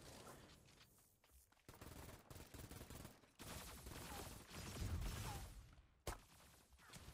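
Gunfire in the video game Cyber Hunter, repeated bursts and volleys of shots, moderately loud, with dense rattling stretches and a sharp crack near the end.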